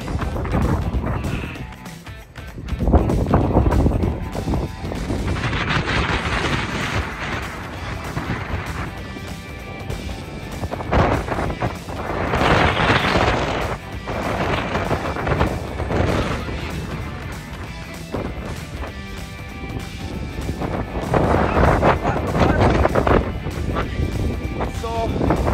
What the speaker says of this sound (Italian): continua ad esserci un vento